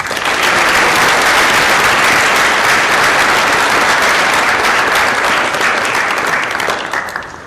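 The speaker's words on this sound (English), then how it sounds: "Please join me in thanking them with a round of applause." Loud, dense audience applause fills a high school National Honor Society induction ceremony, sustained evenly from start to finish before tapering slightly at the close.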